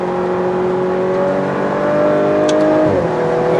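Audi RS4 B9 (2018) at full throttle on the Paul Ricard race track, a loud, steady engine drone rising in pitch, then a gear change near the end drops the revs before the pull resumes, with no talk.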